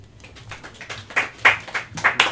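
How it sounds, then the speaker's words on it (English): Scattered applause breaking out among a crowd on a podcast recording, quick uneven clapping that swells over a couple of seconds, moderately close. "Applause comes in."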